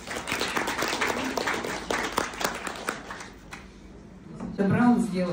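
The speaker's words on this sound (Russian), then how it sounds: "Просто вот аплодисменты," Applause from an audience at a conference in Tyumen, a burst of clapping for about three seconds that fades, then a voice starts talking near the end.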